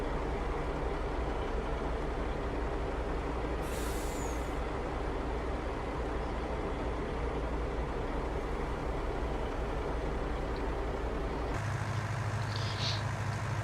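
A small 150-horsepower tractor in a farming video game runs with a loud, continuous engine rumble, broken by a brief hissing burst early on and a shift in engine tone near the end.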